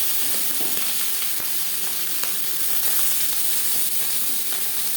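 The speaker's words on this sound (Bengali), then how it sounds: "এবার দিয়ে দেব ম্যারিনেট করে রাখা মাছ" Marinated tangra catfish sizzles and spatters steadily in hot oil in a large wok, a dense, even frying hiss with occasional small pops throughout.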